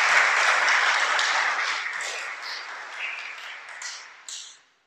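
Audience applause, strong at first and gradually fading out, with scattered claps lingering near the end.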